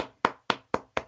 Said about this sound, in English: Start participating and clapping for me.